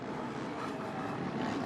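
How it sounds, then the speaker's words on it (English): A motocross bike engine at the 2023 Motocross of Nations, ridden up a rutted hillside with the throttle feathered, gives a steady continuous drone heard at a distance, holding a fairly even level through the short stretch. "Just listen to the throttle control there."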